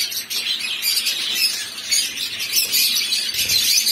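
Caged pet birds at a bird shop, including kimono-type birds, fill the air with dense continuous chirping, tweeting and squawking from many birds at once.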